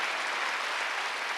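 A church congregation at a Sunday worship service claps together in a dense, even burst of applause, brief and filling the hall.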